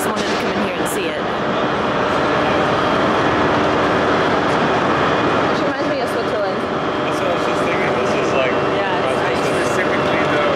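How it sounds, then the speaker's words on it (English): A loud, echoing indoor hubbub of many overlapping voices and footsteps, with constant rumbling background noise filling the large concourse of Glasgow Central train station. "This is the like central station of Glasgow. Train station."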